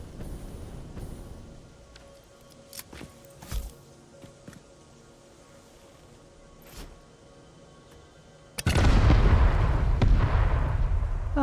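Cluster bombs going off in the video game Satisfactory: scattered distant pops and thuds, then a sudden loud roaring wall of explosions in the final few seconds.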